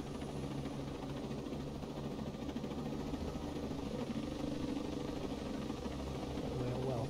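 A helicopter in the video game Ghost Recon Breakpoint, giving a steady, dense engine and rotor drone that holds at an even level throughout.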